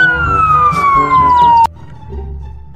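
An electronic police siren wails with a falling tone for over a second, then cuts off abruptly, leaving quieter background rumble and faint clatter.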